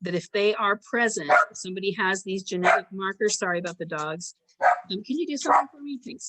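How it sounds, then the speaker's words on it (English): Dogs bark in the background of a lecture recording, the barks mixed under continuous close speech. "sorry about the dogs"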